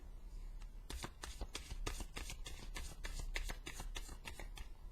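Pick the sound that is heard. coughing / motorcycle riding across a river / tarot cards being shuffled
tarot cards being shuffled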